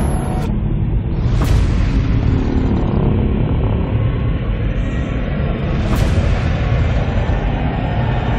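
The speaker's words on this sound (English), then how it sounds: "when the Muto Yamato is destroying Hawaii Airport, only to be interrupted by Godzilla's massive foot coming down" In a Godzilla film scene at a Hawaii airport, the monster's massive foot stomps down amid loud, continuous low rumbling, with two heavy booming impacts.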